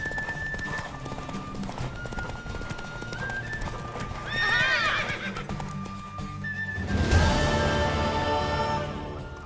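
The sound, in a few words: horse galloping, from a video game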